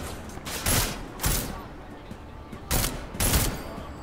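Bursts of gunfire in the video game Deus Ex: Mankind Divided, with several loud volleys separated by short pauses.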